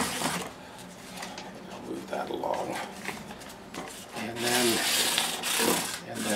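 Fine 600-grit sandpaper rubs along the fret edges of a Jazz Bass neck in quick, repeated scratchy strokes, close by, with a brief murmured voice partway through.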